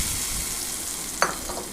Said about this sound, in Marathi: आता आपल्याला ही फोडणी या चटणीमध्ये टाकायची आहे.